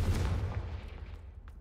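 A blasting spell detonates in a Harry Potter video game, a deep booming explosion with a rumbling low roar that fades steadily over a second or so, fairly quiet and with no talk over it.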